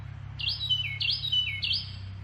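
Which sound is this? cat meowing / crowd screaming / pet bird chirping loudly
pet bird chirping loudly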